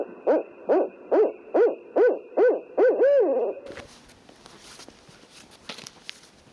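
Owl hoots played back from a tape during a Christmas bird count, a run of about seven loud, evenly spaced calls in a steady rhythm, stopping abruptly and leaving faint outdoor noise.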